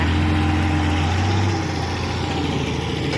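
A backhoe excavator on a land-filling job idles with a loud, steady engine drone and a low hum that shifts slightly partway through.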